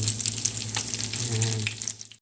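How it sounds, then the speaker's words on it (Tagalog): Eggplant omelette with minced pork frying in a pan, a steady close sizzle and bubbling oil with a faint low hum beneath, fading out at the end. "pwede na tayo magprito. Lutuin lang natin ng golden brown."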